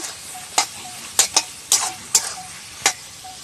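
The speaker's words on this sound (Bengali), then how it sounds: "ভালো করে মশলার সাথে সবজিগুলো মাখিয়ে নেব" Vegetables are tossed with spices in a pan, about six sharp scraping knocks of a spatula against the pan spaced irregularly over a faint low sizzle, quiet and close with no talk.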